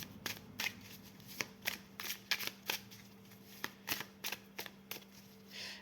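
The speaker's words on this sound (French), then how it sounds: "Je lance d'autres cartes." Tarot cards are shuffled and flicked in quick, crisp bursts, with a close, soft riffling rhythm of irregular snaps and pauses over a faint steady hum and no talk.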